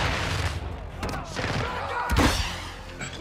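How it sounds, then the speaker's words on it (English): Rapid gunfire and thudding explosions from the Call of Duty: Modern Warfare II video game, loud and dense across the whole stretch, with bursts overlapping one another. "I'm taking fire!"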